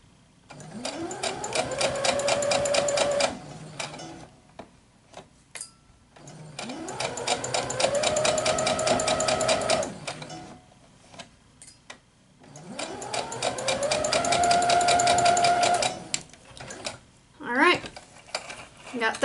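A sewing machine stitches quilt pieces in three bursts of rapid mechanical whirring and clicking, each winding up in speed, with quiet pauses and small handling noises between runs.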